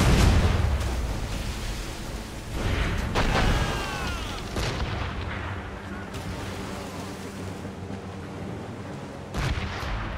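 Ship cannons fire in Assassin's Creed Rogue: heavy booms ring out in several separate blasts, loud and near, with rumbling decay and a voice shouting between shots.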